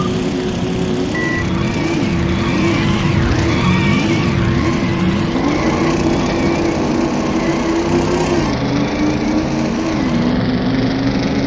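A car in the Midtown Madness driving game races along with a loud droning engine, tyres squealing in repeated wavering skids, then the engine pitch climbs and holds steady, all constant and close without talk.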